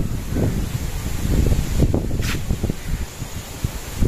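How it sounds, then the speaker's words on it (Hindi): A strong dust storm wind blows hard and steadily, with a loud, continuous rushing roar. Gusts buffet the microphone and rustling debris can be heard throughout. "ये देखें जी आंधी पहुंच आई है, शुक्र है अल्हम्दुलिल्लाह, बहुत तेज हवा चली है।"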